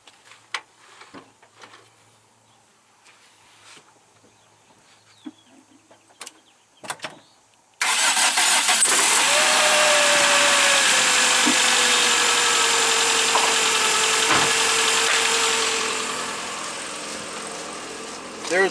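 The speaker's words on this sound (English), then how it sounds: "you start the car. You let it run for 5 minutes idling." Scattered clicks and faint knocks, then an engine cranks and catches, settling into a loud steady idle that continues and eases slightly toward the end.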